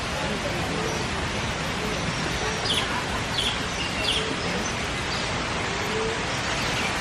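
Birds at the San Diego Zoo call in faint, scattered chirps and clucks, half buried under steady, dense background noise from the crowded grounds.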